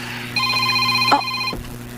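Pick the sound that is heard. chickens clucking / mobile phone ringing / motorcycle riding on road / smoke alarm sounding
mobile phone ringing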